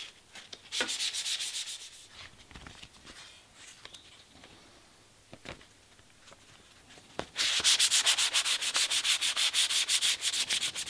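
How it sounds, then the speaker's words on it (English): Fine 400-grit sandpaper scrubbing back and forth on a traditional bow in quick strokes, soft at first, then louder and faster rhythmic rasping near the end. "I'm using 400 extra fine grit sandpaper."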